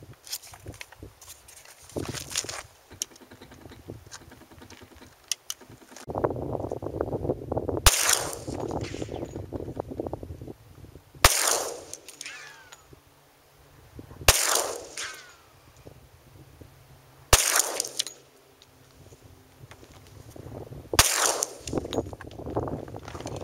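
A Glock 20 pistol fires five 10mm rounds over a chronograph outdoors, five loud sharp reports spaced a few seconds apart with rustling and handling noise between them, no voices.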